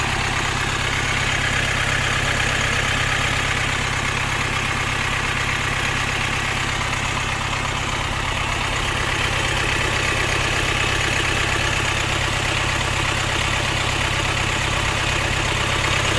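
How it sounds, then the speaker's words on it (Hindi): A Hyundai Creta diesel engine idles with heavy vibration, its air filter removed and a pickup fault present; a loud, steady low rumble with a constant buzzing drone continues unbroken and close. "इसको ज़रा देख लेते हैं हम बाहर से इंजन कितना वाइब्रेशन कर रहा है"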